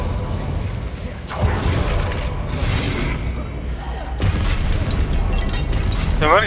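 Confringo blasting spells in Hogwarts Legacy explode amid mechanical clanks and creaking, several bursts spread across the clip with busy game noise throughout and a voice calling out the spell.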